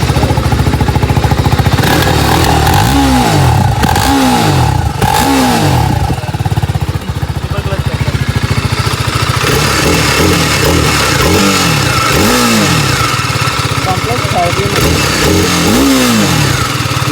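A sport motorcycle set to its most powerful track mode revs repeatedly, each loud rising-and-falling vroom close by, with a steady idle rumble between bursts.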